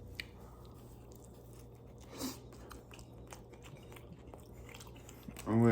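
Someone bites into a slice of homemade pizza and chews it, soft crunchy bites and quiet mastication close up over a steady low background hum.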